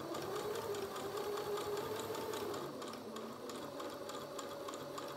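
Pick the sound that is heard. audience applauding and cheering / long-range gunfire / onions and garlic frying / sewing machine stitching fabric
sewing machine stitching fabric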